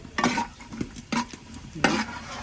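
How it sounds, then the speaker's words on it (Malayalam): Cashew nuts fry in oil for biryani, with a light sizzle beneath three or four distinct scraping stirs and metallic clinks of a spoon against the pan, spaced irregularly and close. "ബിരിയാണിക്ക് അണ്ടിപ്പരിപ്പ് മുന്തിരി വറുക്കാനുള്ള എണ്ണ കേട്ടോ"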